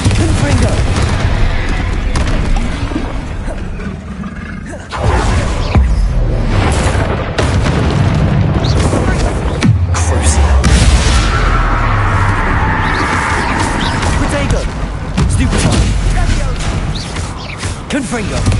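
Bombarda and Confringo explosion spells cast in Hogwarts Legacy: dense, loud booms and blasts in quick succession over rumbling game sound, a voice calling out the spell names in between.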